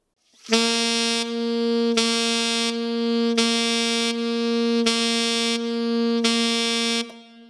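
A saxophone holds one sustained note whose volume repeatedly dips and swells through half-tonguing, the tongue touching and leaving the mouthpiece, five soft-loud cycles, played close and alone.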